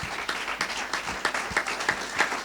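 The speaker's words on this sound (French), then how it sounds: "Oh, on acclame," An audience at a book launch for an author's third book breaks into steady, dense applause, with many hands clapping close and lively throughout.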